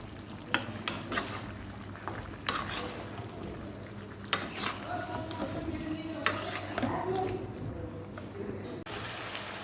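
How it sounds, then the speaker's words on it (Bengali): Ginger, garlic and dried chilli paste fries in a pan, giving a soft continuous sizzle beneath a few sharp scrapes and knocks of a spoon stirring against the metal, quiet and close, with a person talking over it. "এটা আদা রসুন আর শুকনো লঙ্কা বাটা এটা দিয়ে একটুখানি মশলাটাকে কষিয়ে নেব"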